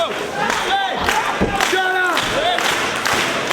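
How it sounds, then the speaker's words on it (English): A wrestling crowd in a Detroit arena cheers and shouts during a match, with rhythmic rising yells and chant-like voices swelling in waves over a continuous crowd roar. "Crowd here in the Motor City getting behind Delirious, trying to fight his way out of this chin lock."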